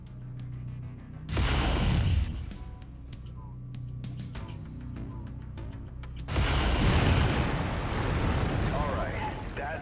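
In the video game MechWarrior 5: Mercenaries, a mech fires its lasers in two loud, sustained bursts of roaring, crackling blasts, separated by a quieter rumbling stretch with scattered clicks.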